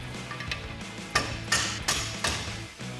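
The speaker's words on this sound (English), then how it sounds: "We might need a rubber mallet to tap these through. Looks like one side we will." A rubber mallet taps bolts down through the mounting rails of a soft truck cap on a Jeep Gladiator JT, giving four or five separate dull knocks spaced about half a second apart over a low background hum.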